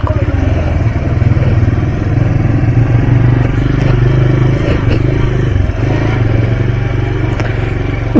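A motorcycle engine drones loud and steady throughout a ride on city streets during a festival outing, with rattling clatter and light scraping mixed in.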